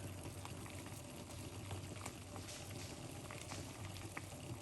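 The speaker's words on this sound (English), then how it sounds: "it's boiling a little bit, but that's okay." Steady bubbling hiss of water boiling for garlic tea, a continuous low rumble with faint pops throughout, fairly quiet and close, no voices.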